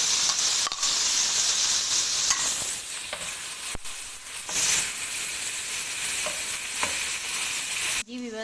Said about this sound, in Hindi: अब हम इसमें कैरेट शामिल करेंगे और इसे लाइट ब्राउन करेंगे।